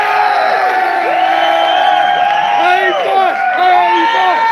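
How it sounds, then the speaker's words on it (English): A live audience breaks into loud, sustained applause mixed with cheers and whoops for a man named David, the crowd noise filling the room steadily from start to finish. "I wonder if we might get applause for David."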